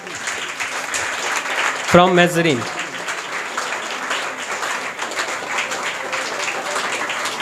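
Applause fills the hall for a junior-group prize winner at a school speech competition and Teachers' Day program, a steady wash of clapping while a voice speaks briefly over it.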